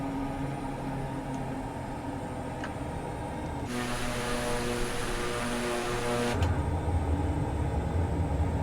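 An Embraer EMB-312 Tucano turboprop landing in Microsoft Flight Simulator 2020, its steady propeller drone holding on, with a brighter, louder engine surge in the middle before the tone drops back to a rumbling hum.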